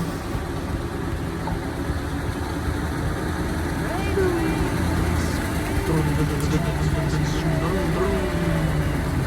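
New engine fitted to a 1997 Hyundai trailer truck running steadily at a low idle outdoors, a continuous rumbling drone with people talking over it.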